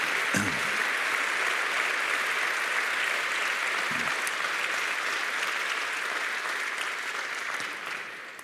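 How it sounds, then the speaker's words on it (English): Graduation ceremony audience applauds the faculty, a dense, sustained roar of clapping in a large hall that carries evenly for about eight seconds before tapering off at the end. "So please give them a round of applause."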